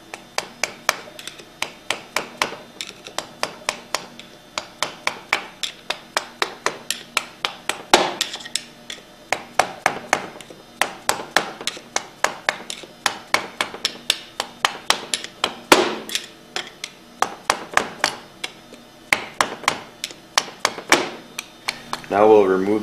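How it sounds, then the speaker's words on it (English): V packings are tapped out of the manifold of a Hypro 2535S triplex plunger pump, giving close, steady, rhythmic metallic taps that continue in quick runs for more than twenty seconds. "Next, we'll remove the V packings by tapping them out."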